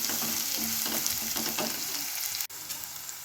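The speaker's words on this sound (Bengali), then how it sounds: "এবার এটাকে ভালো করে ভেজে নিচ্ছি।" Onion, garlic, ginger and a dried red chilli sizzle steadily in a hot pan, a dense continuous frying hiss with light stirring scrapes, close and alone, briefly cutting out near the end before resuming.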